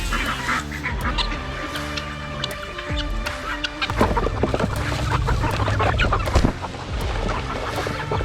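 Ducks, geese and other farm fowl call at once in a crowded pen, a dense overlapping din of honks, quacks and clucks that stays loud and steady throughout with no talk.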